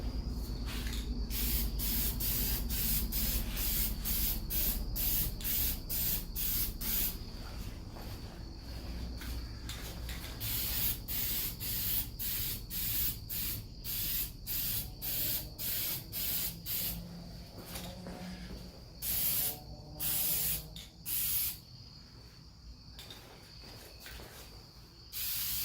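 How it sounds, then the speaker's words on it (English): A spray can lays a light coat of lacquer onto wood in a long run of short hissing bursts, some close together and others spaced apart, fairly quiet and without talk. "A light coat of spray lacquer."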